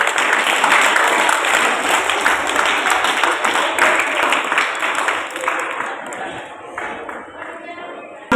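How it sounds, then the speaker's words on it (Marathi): A crowd claps steadily for a team at a school Marathi-language quiz competition, a dense, even patter that carries on loudly for several seconds and then gradually thins and fades. "त्यांच्यासाठी टाळ्या वाजवूया"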